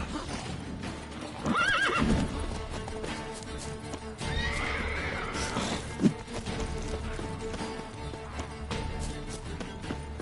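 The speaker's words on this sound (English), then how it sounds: "Spooking my horse." A horse whinnies loudly a couple of times over clip-clopping hooves and a busy ambient background, with a sharp knock partway through, in the video game The Witcher 3.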